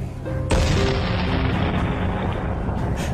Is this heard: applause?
no